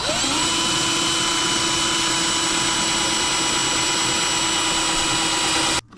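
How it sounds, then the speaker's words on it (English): A power drill drilling out a part whirs steadily at high speed with a rising whine that holds, then cuts off abruptly near the end. "we're going to just drill that out real quick"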